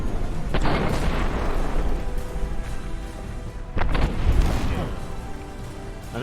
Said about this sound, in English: And a few rockets for good measure, it seems.